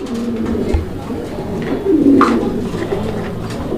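Fancy pigeons, including Lahori birds, coo in soft, repeated throaty rolls close by at a market stall, with people talking over them.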